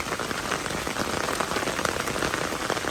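Heavy rain pours down steadily on rice paddies in Laos, a dense continuous hiss of drops hitting surfaces, close and loud with no voices.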